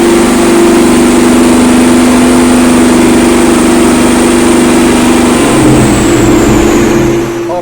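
Loud, steady drone of a 1998 Ford Mustang GT engine running on a dyno, holding an even pitch with a high roller whine, then dropping lower near the end as it eases off.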